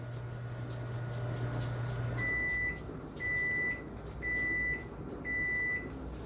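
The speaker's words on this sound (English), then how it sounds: "But the microwave just went off." A microwave oven, cooking with a Tupperware MicroPro Grill inside, stops humming and then sounds four evenly spaced, steady beeps to signal it has finished, close and clear.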